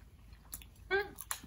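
Someone bites into a steak and cheese pie in New Zealand, a short crunchy bite followed by soft chewing, close and quiet with a brief voice nearby.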